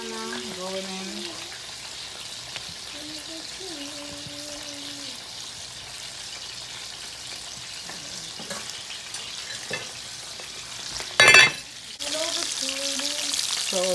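Banana pieces fry in a pan for Jamaican brown stew fish, a low steady sizzle running throughout with tonal voice-like sounds over it and a brief burst of louder splashing noise near the end.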